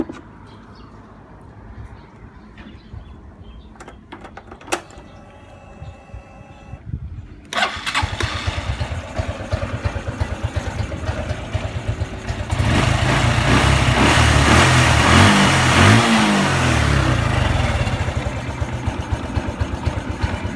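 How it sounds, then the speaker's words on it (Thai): A Honda motorcycle being checked for its charging system cranks with a few clicks, then starts and settles into a steady close idle that grows louder and rougher as it revs, running continuously. "เมื่อเราติดเครื่องรถแล้ว"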